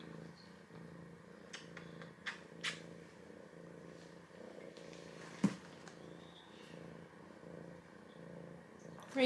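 A cat purrs softly and steadily nearby, a low continuous rumble with a few small bumps and rustles, in a quiet indoor setting.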